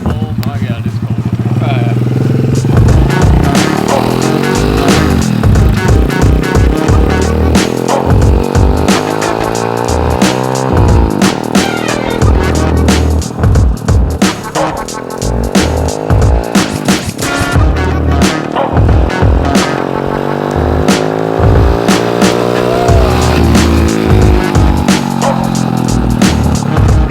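A small mini street quad engine revs loud and close as the rider heads down a cold street, rising and falling through gear shifts with a slightly loose chain, while people talk over it now and then.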